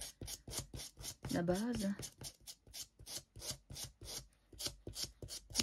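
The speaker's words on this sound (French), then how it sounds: "ils nous disent qu'il faut bien polir l'ongle" A fingernail is polished with a file or buffer in a nail salon setting, producing quick, regular rasping strokes in a steady rhythm, close and quiet, with someone briefly speaking over them.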